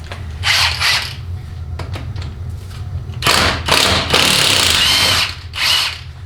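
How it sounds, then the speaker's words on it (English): Close and loud, a power tool spins out the feed bolts from a 4L80E automatic transmission, a 3/8 12-point and a Torx 40. Several whirring bursts of a few seconds each are broken by short clicks and quiet gaps, with no talking. "So now we need to remove our 2 feed bolts for intermediate and overdrive."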